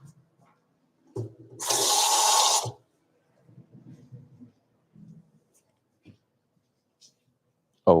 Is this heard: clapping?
no